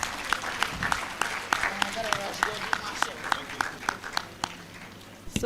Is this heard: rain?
no